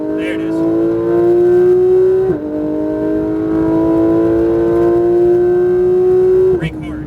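Porsche 991 GT3 RS accelerating hard on a race track, its engine note climbing steadily, dropping sharply at an upshift and then rising again, loud and close from inside the car, with talking over it.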